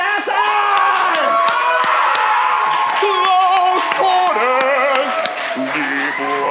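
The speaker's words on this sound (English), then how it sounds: "give a big round of applause as we say goodbye to our players for the halftime" At a live main-stage show, a crowd cheers, whoops and claps for players leaving at halftime, a dense, sustained wash of voices and applause that fills the space.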